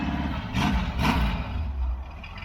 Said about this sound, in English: That sounds great. Right? Nothing wrong with that engine.